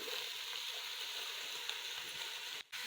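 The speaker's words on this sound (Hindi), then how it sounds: "इसको हम अच्छे से मिक्स कर लेंगे और 1 मिनट के लिए हम फ्राई कर लेंगे।" Shredded cabbage and chicken for macaroni fry in a pan with a steady, close sizzle that carries on without a break, ending in a brief pause.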